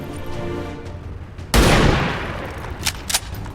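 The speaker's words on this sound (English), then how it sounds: "Let's take a shot from here at you." A soldier's single loud gunshot in XCOM 2 bursts in suddenly, close and heavy, then decays into a short rumble followed by a couple of small sharp clicks.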